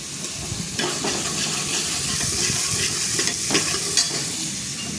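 Chopped green chillies frying in a pan with onions, a steady close sizzle with some stirring scrapes running through the whole stretch, no voices.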